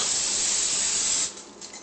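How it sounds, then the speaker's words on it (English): A steady hissing spray of cooking spray onto a pan lasts just over a second, then cuts off, leaving faint hiss. "Just spray it a little bit."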